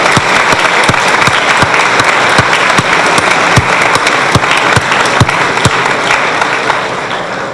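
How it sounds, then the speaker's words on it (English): An audience gives a sustained round of applause at a National Adoption Day ceremony, dense steady clapping filling the room for several seconds with a few sharper individual claps standing out. "I ask that you join me in a round of applause for them."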